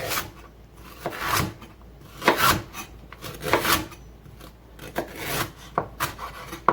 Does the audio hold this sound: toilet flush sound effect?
no